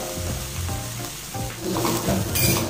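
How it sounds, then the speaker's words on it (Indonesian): A rice mixture for pandan rice is stirred in a pan over medium heat, giving a continuous close sizzle with scraping stirs that grow louder toward the end. "Seperti ini kita aduk, apinya sedang aja, jangan gede-gede."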